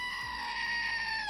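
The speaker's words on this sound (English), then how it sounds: "That was louder than the goat scream." A goat scream rings out in a Heroes of the Storm esports match, a sustained, loud, strained bleating cry with a harsh buzzing edge that holds steady throughout.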